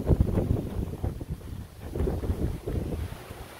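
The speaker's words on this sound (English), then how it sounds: "Gusting again." Strong wind gusts batter the microphone in rough, rumbling surges on a stormy first day of summer, close and loud throughout with a brief lull in the middle.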